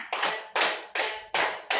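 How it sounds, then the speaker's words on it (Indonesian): A group of people clap a counted pattern at a teachers' positive culture workshop, with five sharp, evenly spaced bursts of hands striking together in unison, loud and close, with no talking over them. "Tepuk 1, tepuk 1, tepuk 3, tepuk 3, tepuk 5."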